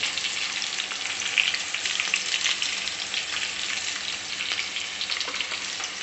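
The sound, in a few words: bitter gourd chips frying in oil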